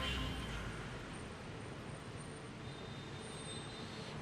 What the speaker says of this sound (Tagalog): Ivan, nandito ako ngayon sa Doroteo Jose Station ng LRT1 sa Maynila